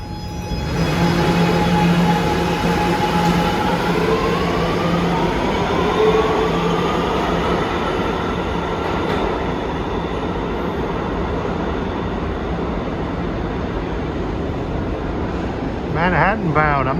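A Manhattan-bound R211A subway train on the rails through Far Rockaway rolls past steadily and loudly for the whole stretch, its continuous rumble carrying rising tonal whines and a brief wheel squeal near the end.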